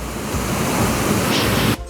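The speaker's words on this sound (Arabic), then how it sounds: "شلالات نياجرا في مونتينيجرو الجبل الاسود" A waterfall in Montenegro roars as a steady, dense rush of water, loud and close throughout, ending in a sudden cut.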